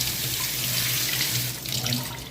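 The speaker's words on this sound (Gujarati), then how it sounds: "એકવાર હું મેગીને આવી રીતે ઠંડા પાણીમાં ધોઈ લઉં છું" Cold water runs steadily from a tap over Maggi noodles in a sink, a close, continuous splashing hiss that softens slightly toward the end.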